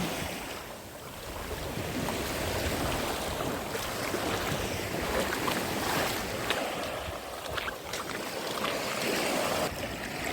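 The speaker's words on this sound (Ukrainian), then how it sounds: "От знову море штормить, а вода чиста." Rough, stormy Black Sea surf at Odesa hisses and washes steadily with gusts of wind, a continuous broad roar with no voices.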